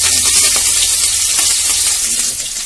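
Mustard seeds, chopped shallots and curry leaves fry in hot oil, making a loud, close, continuous sizzle with crackling pops throughout that eases slightly at the end.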